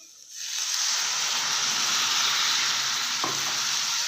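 Water hits a pan of frying green beans palya, setting off a sudden loud, steady sizzle that holds on with a brief knock partway through.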